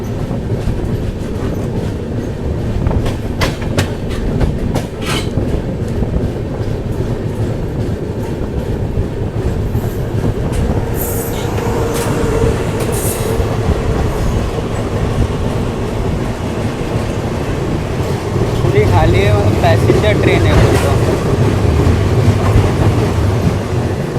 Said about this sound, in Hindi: बेगमपल्ली से कोई तो ट्रेन वैग 9 के साथ डिपार्चर हो रही है